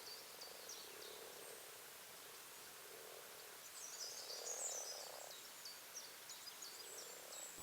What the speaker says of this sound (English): Now the toads arrive here in the early spring